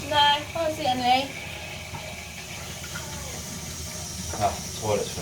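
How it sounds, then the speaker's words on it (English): A toilet cistern refills with water after a flexi pipe with a built-in isolation valve has been fitted, giving a steady hissing trickle throughout. People talk over the filling noise at intervals. "Ah, the toilet's filling up."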